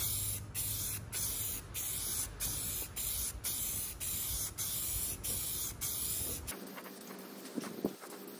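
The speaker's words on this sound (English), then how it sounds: "we'll paint the outside yellow now" Rhythmic bursts of spray paint from a can coating the outside of a John Deere LA135 lawn tractor yellow, loud and close with brief pauses between passes, ending in a quieter stretch with faint handling noises.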